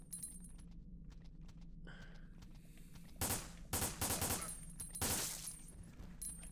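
Gunshots in the video game Resident Evil Dead Aim, several loud sharp shots in quick succession over a quiet ambient background, with no talking.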